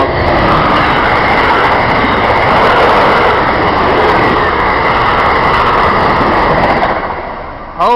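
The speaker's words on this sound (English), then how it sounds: "This is the silver meteor!" The Silver Meteor passenger train passes at Norwood with a loud, continuous close roar of wheels on rail that holds steady for several seconds before easing off.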